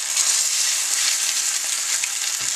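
Safeway chicken marinara frying in a stainless steel pan, a dense, loud, continuous sizzle with faint crackles and pops scattered through it and no voices.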